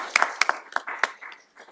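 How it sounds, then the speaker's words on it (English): Scattered claps from a small audience for a speaker on a health law panel about reproductive care, a few sharp separate hand claps that thin out over under two seconds. "A big round of applause."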